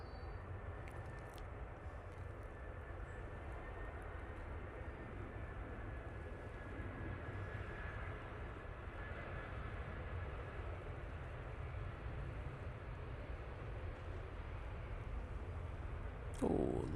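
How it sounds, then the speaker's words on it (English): EasyJet airliner landing at Manchester Airport, heard from a plane-spotting spot as a distant, steady roar and rumble of jet engines that swells gently through the whole stretch, with no one talking. "love a floaty landing there from that EasyJet"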